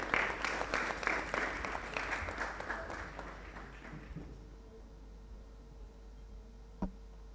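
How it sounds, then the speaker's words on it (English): Audience applause at the launch of an academy, a dense burst of clapping that fades away over several seconds, then near silence with a single faint knock. "Let's give him a round of applause as he joins us."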